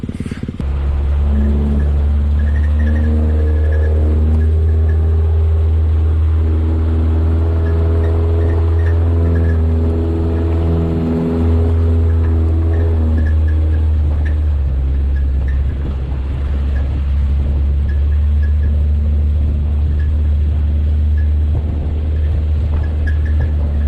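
A Suzuki Sidekick, X-90 or Geo Tracker 4x4 climbs a steep off-road hill with its engine labouring loudly and constantly. A deep low rumble and the droning revs sit close to the microphone for the whole clip.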